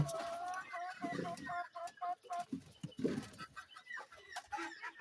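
Domestic pigeons let out of their coop make soft, repeated calls and short flutters at close range. The sound is quiet, with faint voices in the background.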